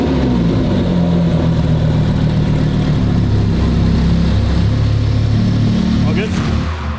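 A Lamborghini V10 engine starts and settles into a loud, steady idle, its deep rumble continuous and close for the whole stretch, with a brief higher sound near the end.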